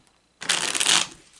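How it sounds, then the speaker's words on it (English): A hybrid tarot and playing card deck is shuffled in one quick riffling burst of close, crisp card flutter that lasts under a second and then stops. "So I'm going to go ahead and shuffle the"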